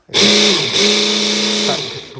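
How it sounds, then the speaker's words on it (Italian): A small blender running on 220 V powered through an inverter whirs up loudly and close, a steady high motor whine with a brief dip in pitch midway before spinning down, over someone speaking. "E sto piccio qua, sto frullatore, guarda,"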